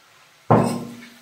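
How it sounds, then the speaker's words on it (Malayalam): Chopped bitter gourd drops into a hot pan of sautéed onion, setting off a sudden loud burst of sizzling that quickly fades. "സവാള ജസ്റ്റ് ഒന്ന് വഴറ്റി എടുത്തിട്ട് നമ്മൾ അരിഞ്ഞു വെച്ചിട്ടുള്ള പാവയ്ക്ക അതിലേക്ക് ഇട്ട് കൊടുക്കാം."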